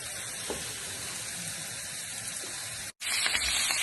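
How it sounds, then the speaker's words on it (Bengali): Onion leaves and garlic frying in a pan for dried fish, a steady close sizzling hiss that runs evenly before a brief cutoff and then resumes. "এই যে পেঁয়াজের পাতা আর রসুন শুকিয়ে একটু বাজিয়ে নিচ্ছি"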